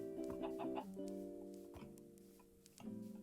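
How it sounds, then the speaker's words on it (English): Chickens clucking in Minecraft, soft short clucks and low tonal bird calls repeating irregularly under a faint steady music-like background. "I actually see 2 chickens."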